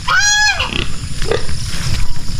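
Hybrid farm pigs grunting and squealing up close, opening with a loud rising squeal followed by scattered grunts and snorts over a rustling pen background.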